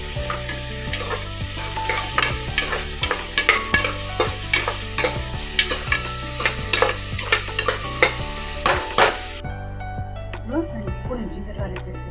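Chopped onions sautéing in sesame oil for goat head curry, a steady sizzle broken by a rhythmic series of spatula scrapes and stirs against the pan, with music playing throughout.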